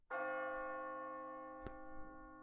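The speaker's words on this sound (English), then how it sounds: "especially if you happen to hear a distant bell" A single church bell strikes once in an audio drama, its ringing tone sustaining and slowly fading, with a faint click midway and no speech, quiet and distant.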